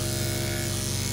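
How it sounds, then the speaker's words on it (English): An electric clipper buzzes steadily and loudly while shaving a schnauzer's face between the ears and eyes, a constant close motor hum with no pauses. "I just go between the ears and the eyes and shave all of that off"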